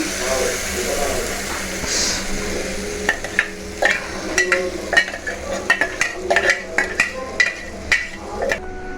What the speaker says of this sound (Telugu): వేసేసి ఫ్రై చేస్తున్నాను. టమాటా కూడా వేసేస్తున్నా.